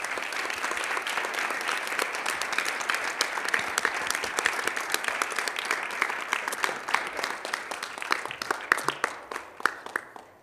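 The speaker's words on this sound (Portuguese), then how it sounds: "mais uma vez, eu peço uma salva de palmas para a equipe" An audience at a Brazilian internet forum's final plenary gives sustained applause for the organizing team, dense clapping that holds steady and thins into scattered claps before ending.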